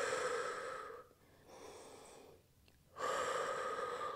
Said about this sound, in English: Breathing in through the nose and slowly out through pursed lips.